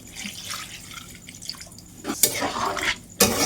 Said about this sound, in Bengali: এবারে আরেকটু জল দিয়ে দিলাম